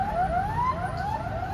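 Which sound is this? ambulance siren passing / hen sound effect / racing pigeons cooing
ambulance siren passing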